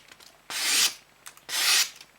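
A Victorinox Venture knife blade with a thick spine and full flat grind cuts in two slow, close strokes, each a rough rasping scrape lasting under half a second, separated by a short pause.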